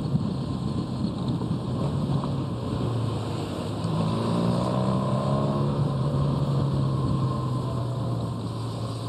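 A motorcycle follows racing cyclists downhill at Tour de France speed, its engine a steady droning whine with rising pitch sweeps, buried in constant rushing wind noise.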